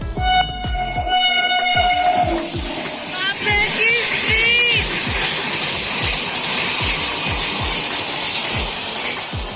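Trains move through a railway platform, with a horn blast at the start and then a rhythmic clatter of wheels over rail joints, loud and near, while voices talk faintly in the background.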